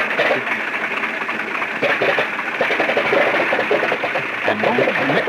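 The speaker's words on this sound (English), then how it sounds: "Then the co-pilot starts the engine" A WWII bomber's number 3 radial engine, fitted with a turbo supercharger, starts and runs as a steady loud droning rumble with a faint mechanical clatter, holding continuously throughout.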